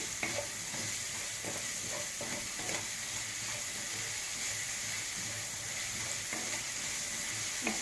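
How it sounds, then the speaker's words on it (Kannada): Onions fry with salt in a pan for a potato roast, producing a quiet, continuous sizzle marked by repeated soft stirring scrapes and light taps, with no voices. "ಈರುಳ್ಳಿ ಸ್ವಲ್ಪ ಫ್ರೈ ಆಗಲಿ"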